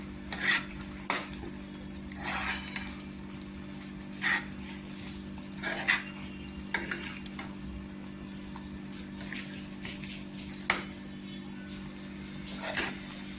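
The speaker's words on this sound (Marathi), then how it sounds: "कोथिंबीर टाकल्यानंतर मिक्स करून घ्यायची." Potato curry with fresh coriander stirred in a pot, quiet intermittent scrapes and clinks of a spoon against the vessel over a low steady hum, faint and close.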